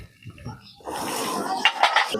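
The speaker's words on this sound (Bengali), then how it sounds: "মশলা দিয়ে আবারও ভালো করে কষিয়ে নিচ্ছি।" A spoon stirs and fries spices with elephant foot yam and spinach in a pan. Close metallic scraping and clatter rise after a quiet start, with a voice briefly heard.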